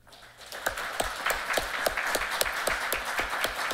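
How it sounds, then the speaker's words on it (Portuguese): Applause from the audience at a Black Consciousness Day ceremony in Brazil's Chamber, a fairly sparse, medium-distance clapping that rises quickly after a quiet start and continues steadily, with distinct individual claps. "E por isso, também merece os nossos aplausos."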